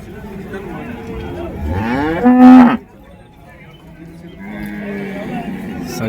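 A cow moos loudly and close at the Orappam cattle market, one long drawn-out low call over busy crowd chatter and market noise.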